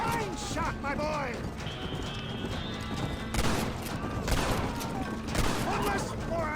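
Several sharp gunshots crack out in the Western game Red Dead Redemption, mixed with clip-clopping horse hooves, a whinny and game voices, the loudest shots landing in the second half.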